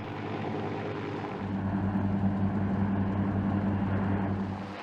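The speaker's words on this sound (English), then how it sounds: "The helicopter transports the Marines towards the vehicle and lands on the ground." A UH-1Y Venom military helicopter flies at sea in a steady, loud rotor drone with a low, even pulse that strengthens after the first second and holds throughout, with no voices.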